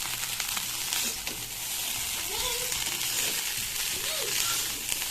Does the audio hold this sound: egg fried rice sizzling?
yes